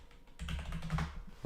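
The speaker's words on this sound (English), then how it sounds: "Whoa, can't type today." Keys tapped on a computer keyboard in a short, uneven run of soft clicks, heard close over a low background hum.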